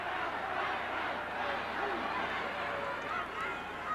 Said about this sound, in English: And the crowd gets on Blackwell